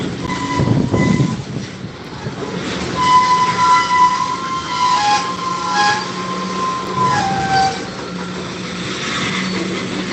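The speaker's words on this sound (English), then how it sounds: "It's a small little tanker train" A small Norfolk Southern tanker train switches tracks at Watkins rail yard, with long sustained horn tones over rumbling rail noise, fairly loud and close, with no talking.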